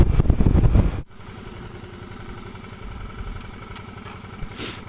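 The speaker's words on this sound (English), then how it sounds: "there was a vehicle, another motorbike." A loud burst of engine noise cuts off abruptly, then a motorcycle's steady mid-pitched engine drone continues at moderate level, fading slightly toward the end.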